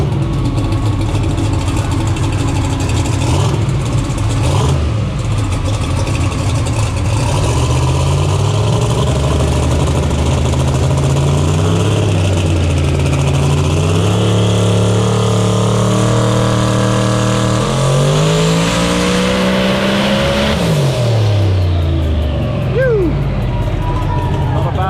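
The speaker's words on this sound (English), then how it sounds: "So with the bull horns on it, let's go. Here we go. First pull, a little bit of a rev up." A 3,100-horsepower race car engine fitted with bull horns revs at a car festival, its loud drone rising and falling in pitch through several pulls, with a sharp climb near the end and people talking over it.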